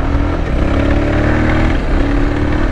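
A VOGE 300 Rally motorcycle rides off-road on dirt, its engine droning steadily and loudly up close with a constant mid-pitched rumble and no speech.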